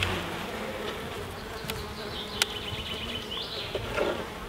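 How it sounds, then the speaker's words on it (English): Honey bees buzz steadily inside an opened beehive during a queen check, a close, continuous drone with a few soft clicks and knocks from handling the hive. "there actually is quite a few bees in here, so it looks okay."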